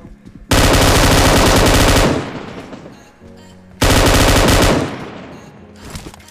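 Two long, loud bursts of automatic gunfire from a video game, each lasting a couple of seconds and separated by a brief lull with fainter game sounds.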